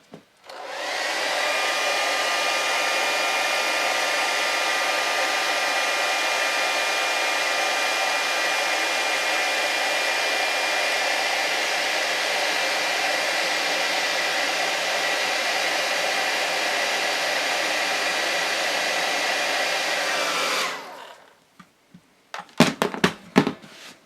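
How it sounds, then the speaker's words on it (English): A blow dryer roars steadily at close range, blowing on a freshly blood-splattered painted Harley Quinn statue for about twenty seconds, then switches off, followed by a few faint clicks and handling knocks. "And we'll get our blow dryer."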